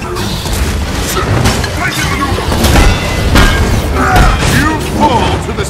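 Power cores being blown apart in the video game Marvel's Avengers, a dense run of booms, crashes and mechanical impacts over steady in-game noise, with a voice speaking through it.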